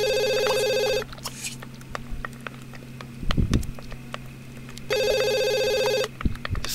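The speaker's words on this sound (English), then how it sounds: "Who the hell is calling my phone?" A phone rings in a video game, two bursts of a bright, repeating electronic ring about a second long each, separated by quieter clicks, taps and a low steady hum.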